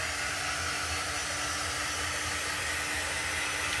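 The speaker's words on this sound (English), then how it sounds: "I'm just going to run the dryer over it so I don't mess anything up" A hair dryer blows steadily over a chalk craft photo project, a constant airy whoosh with a faint motor whine and no break from start to finish.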